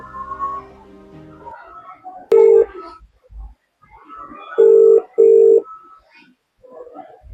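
A phone keypad beeps several times in short tones during a call placed about a locked room key, with people talking quietly around the beeps.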